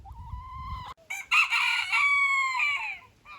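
A rooster crows once loudly and close by, a long strained cock-a-doodle-doo that rises, holds, then trails off, preceded by a short low clucking call.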